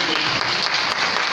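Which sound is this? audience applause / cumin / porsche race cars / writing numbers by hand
audience applause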